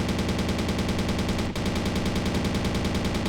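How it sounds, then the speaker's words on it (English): An anti-aircraft gun fires in the Men of War: Assault Squad 2 video game, a rapid continuous stream of loud repeating shots with only a brief break partway through. "Alright, I gotta get on the AA gun then."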